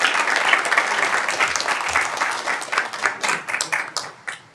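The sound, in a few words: audience applause for poetry finalists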